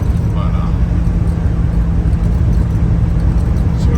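A 1986 Dodge Ram D150 pickup truck drives along with a loud, steady low engine and road rumble inside the cab.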